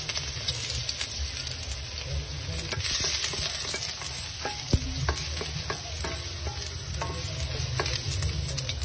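Garlic sizzles steadily in a pan and is stirred, with scraping and clicking from the utensil against the pan over a constant frying hiss, with no talk.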